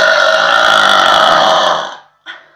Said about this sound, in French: Roter comme ça dans la maison avec les vieux, c'est pas possible